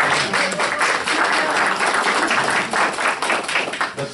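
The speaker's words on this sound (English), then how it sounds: "Can we give her a round of applause?" Audience applause at a school board meeting, dense and fairly loud clapping from a room full of people, sustained evenly and tapering slightly at the end.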